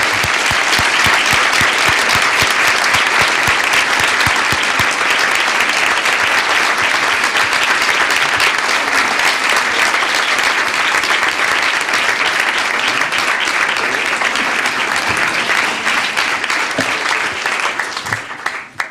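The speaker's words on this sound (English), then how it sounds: "Join me in giving Michael a round of applause" A school board meeting audience gives sustained, dense applause for a student who earned a perfect SAT score; loud, steady clapping from many hands that holds throughout and tapers off at the very end.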